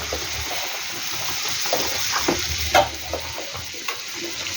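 Fried potatoes cooking with chili and turmeric powder and a splash of water in a pan, a continuous close sizzle and bubbling hiss broken by scraping stirs and a few sharper clinks.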